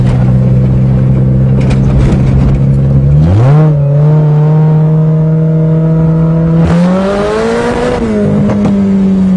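Toyota GTS engine pulling hard through the revs while still cold, loud and close, with a rising whine, a brief shift pause, then another climbing surge of acceleration.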